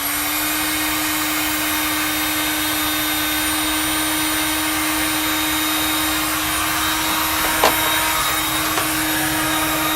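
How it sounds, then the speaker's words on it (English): A heat gun blows with a steady loud whirring hum while shrinking heat shrink tubing over a soldered wire on a truck repair, continuous and close, with a couple of faint clicks near the end. "Now I'm gonna heat shrink it."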